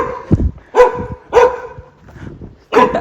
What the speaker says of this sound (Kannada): ಓ, ನಾಯಿ